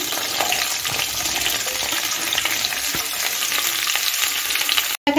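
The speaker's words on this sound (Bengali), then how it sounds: "একটু নেড়ে নিচ্ছি। গাজর আর বিনস দিয়ে দিচ্ছি।" Carrots and beans tossed into a pan with cauliflower, frying with a constant close sizzle and repeated spatula stirs, ending in a brief cut of silence.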